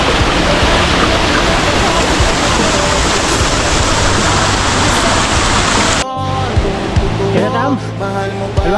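Loud, steady roar of a waterfall in Porac, Pampanga fills the scene, broadband and constant, then the rush drops abruptly to a quieter wash with people talking over it.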